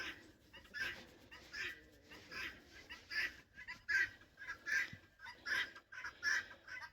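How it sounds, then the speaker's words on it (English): Chickens cluck and squawk in repeated bursts from a flock, fairly close and lively, with no talking. "looks like the new rooster made up with the flock"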